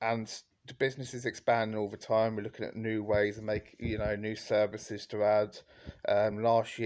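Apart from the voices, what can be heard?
No everyday noises stand out.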